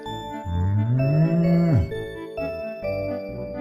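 A cartoon cow lets out a long, loud moo that rises and then drops, followed by shorter, lower lowing sounds.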